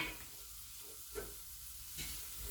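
Onions, ginger and scotch bonnet sautéing in a pan for a coconut, kale and green pea soup, a faint soft sizzle broken by a couple of brief stirring scrapes, no talking.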